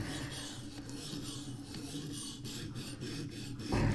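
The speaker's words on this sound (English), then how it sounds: "it's fine to rub your stone back and forth like this" A sharpening stone rubbed rapidly back and forth against a hard carbon steel knife blade, giving a steady rasping scrape in even strokes, close and fairly loud, with a heavier thump at the end.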